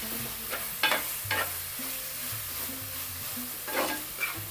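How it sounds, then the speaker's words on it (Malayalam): Crushed garlic, ginger and masala sauté in a pan for a coconut-free prawn dish, a steady close sizzle broken by a few scraping strokes of a stirring spoon. "ഇതെല്ലാം നല്ലതുപോലെ ഒന്ന് വഴന്ന് വരട്ടെ."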